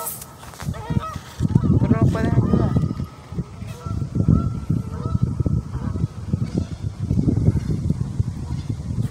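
A duck or goose honks repeatedly and loudly at close range, with a person talking gently over the calls throughout.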